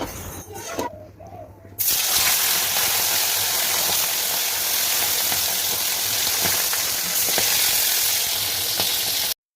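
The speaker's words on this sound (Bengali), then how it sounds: "এবার আমি এখানে ইলিশ মাছটা ভাজতে দিয়ে দেবো।" Hilsa fish pieces fry in hot oil with a loud, steady sizzle that starts abruptly after a quieter moment and continues unbroken with faint crackles.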